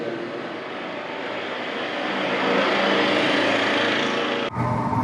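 Arc welding on a butt joint produces a steady, loud buzzing crackle that swells slightly and runs continuously before cutting off near the end, with no voices over it.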